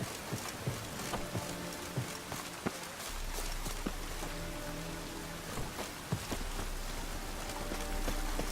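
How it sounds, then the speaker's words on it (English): Rain falls steadily in The Witcher III, a soft continuous hiss dotted with scattered patters and light clicking taps, fairly quiet throughout. "I like rain."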